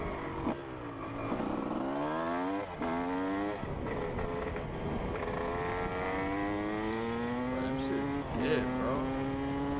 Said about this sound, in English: like the sound of dirt bikes too